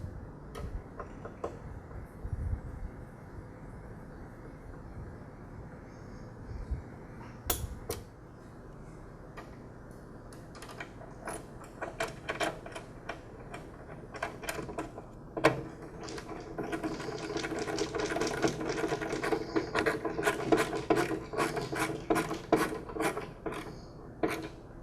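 Screws being tightened on the pivot shaft of a DeWALT DW708 miter saw: rapid, fairly quiet ticking and clicking of a tool, steady at first and then growing busier and louder toward the end.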